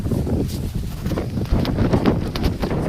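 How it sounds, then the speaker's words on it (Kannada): Strong wind in North Karnataka gusts and buffets loudly against the microphone, a constant rumbling roar with no voices. "ತುಂಬ ಗಾಳಿ ಬೀಸ್ತಾ ಇದೆ, ನೀವು ಕೇಳ್ತಿರ್ಬೋದು ಸೌಂಡು"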